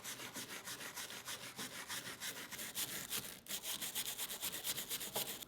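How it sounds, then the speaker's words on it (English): Wire brush scrubbing along carved wood grain on a handmade axe-hand prop, a steady rhythmic rasping of repeated strokes, close and alone. "now I'm going to rough it up a bit more with a wire brush"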